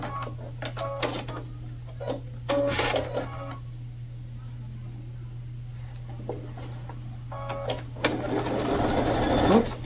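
Sewing machine stitching a bag, running in several short bursts including a backstitch, with a steady hum underneath and a longer loud run near the end.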